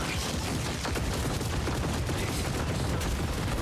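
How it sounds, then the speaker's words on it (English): A barrage of video-game gunfire rattles on continuously, with dense, overlapping shots forming a loud, unbroken roar from start to finish. "Launching barrage."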